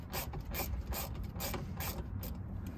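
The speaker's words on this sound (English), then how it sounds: "I'm going to go ahead and remove this screw, and this is a T20 Torx." A T20 Torx screw is backed out of a 2005 Chevrolet Silverado side mirror with a ratcheting driver, making a quiet, steady series of rhythmic ratchet clicks, roughly three per second, over faint background hiss.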